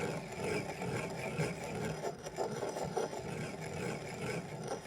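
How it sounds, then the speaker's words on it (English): Millet being ground by hand in a mortar into coarse flour, a steady gritty rubbing and rasping that runs continuously at close range with no talk. "We grind in the mortar the millet."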